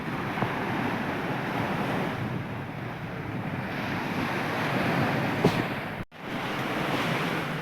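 Steady roar of sea waves and buffeting wind far out at sea, continuous and fairly loud with no voices.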